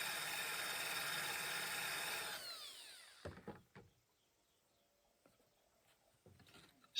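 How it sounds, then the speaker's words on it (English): A diamond drill bit grinds through glass with a steady, close, bright whine for about two seconds, then winds down, followed by a few soft knocks and handling sounds. "So I've drilled about halfway through."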